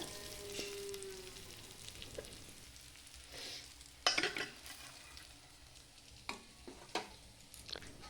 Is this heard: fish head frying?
yes